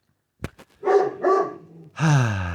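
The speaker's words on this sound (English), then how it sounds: "the dog doesn't stop barking in the background" A dog barks in a few sharp, close bursts, separate yips followed by a longer, drawn-out bark at the end, heard alone without talk.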